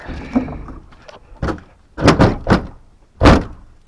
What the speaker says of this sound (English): Then I close the door.